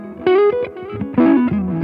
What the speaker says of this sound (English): That's just a 65 Deluxe Reverb.